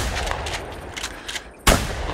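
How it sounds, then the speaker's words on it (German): A single sharp, loud hunting rifle shot in the video game The Hunter 2015 cracks out near the end, during a duck hunt, cutting through a low steady background rumble with scattered faint noises before it. "Hast du den Schuss gehört?"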